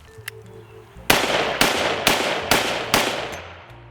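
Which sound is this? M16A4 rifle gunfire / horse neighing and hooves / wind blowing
M16A4 rifle gunfire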